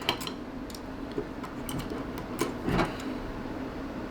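Last retaining screw being backed out of a hard disk drive with a small screwdriver: faint, irregular close-up ticks and clicks over a quiet background hum, with a slightly louder scrape near the end.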